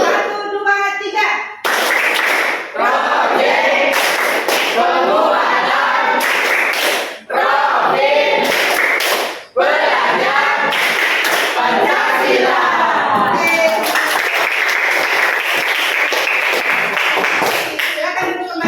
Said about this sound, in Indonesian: untuk lebih semangat kita tepuk kelima ya